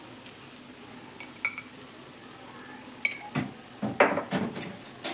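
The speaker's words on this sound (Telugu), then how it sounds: "చూస్తున్నారు కదా, ఫోక్ స్పూను మంచిగా మిక్స్ అవుతుంది" A fork-spoon stirring egg and soya chunk fried rice in a pan gives light metallic clinks and scrapes in scattered bursts, clustering more densely toward the end, close and fairly quiet with no talking.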